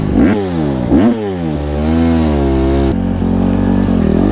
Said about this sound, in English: But today my bike is running like shit.